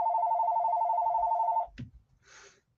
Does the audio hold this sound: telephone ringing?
yes